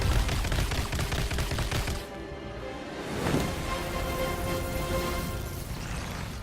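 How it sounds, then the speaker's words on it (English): Rapid gunfire in a Spider-Man video game crackles as a dense, fast stream of shots, briefly dipping then swelling again around a sharper burst, with game score underneath throughout. "Oh, so that's some fast shooting there, Tex."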